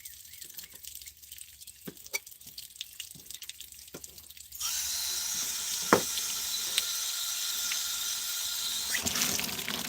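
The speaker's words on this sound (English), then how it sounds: "Turn the jets on, the water jets" Water jets run into a kitchen sink during meat trimming: scattered drips and clinks at first, then a tap gushes on halfway through into a steady close hiss of running water with occasional knocks.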